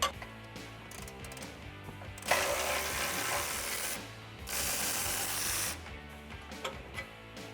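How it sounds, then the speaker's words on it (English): An 18mm socket on a ratchet removes the upper control arm bolts on a Ford F-150. Close, quick ratchet clicking comes in bursts, with a couple of louder hissing spells between them. "We're going to use a 21mm wrench and an 18mm socket with a ratchet to remove the 2 upper bolts."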